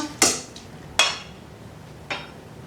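Utensils tap and scrape in a bowl while Thai chicken larb salad with chili flakes is mixed: three sharp, separate clinks spaced about a second apart, quiet and close, with no talking.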